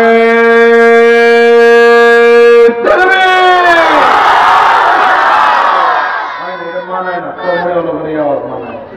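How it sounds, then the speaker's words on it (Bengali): A large crowd at an Islamic mahfil in Charmonai union roars a full-voiced takbir in one loud surge lasting a few seconds, after a long, steady amplified voice on a held tone, then fades into a single voice. "এবার কণ্ঠের যতটুকু আওয়াজ আছে পুরোটা আওয়াজ ছেড়ে দিয়ে তাকবীর দিতে হবে"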